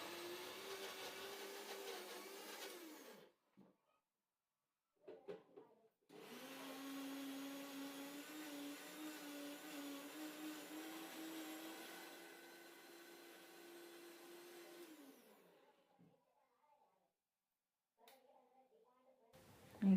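A mixer grinder runs on spice masala in a Kannada home kitchen, a loud steady electric whir in two long bursts separated by short pauses, with brief clatter between runs.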